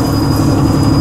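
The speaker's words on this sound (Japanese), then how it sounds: "横手行きのワンマンカーです" A one-man local train bound for Yokote rumbles loud and close, a steady rolling roar of wheels on rails with a faint high whine, no talk.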